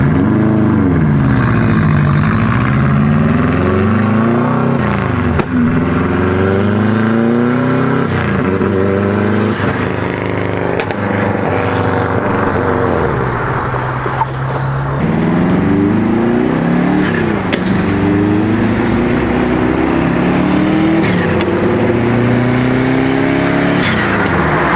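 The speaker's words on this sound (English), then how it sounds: "That turbo sounds so good." A turbocharged car accelerates hard through repeated gear pulls, its engine pitch climbing and dropping in a steady sawtooth pattern, loud and close throughout with turbo whine and no talking.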